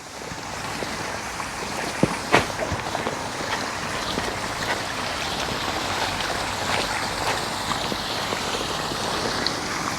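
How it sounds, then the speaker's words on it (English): Steady water splashes and rushes continuously as it pours over a garden pond's waterfall blade into the pond, with an occasional louder splash. "just that bit more water in the pond makes the sound of that blade so much softer"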